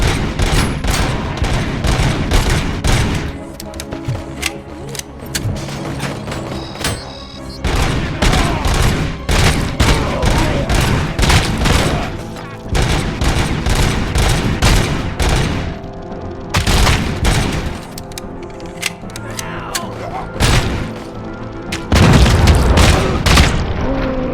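Dense, loud gunfire and booming explosions from the video game Robocop Rogue City, continuous rapid shots and blasts overlapping for the whole stretch with little pause.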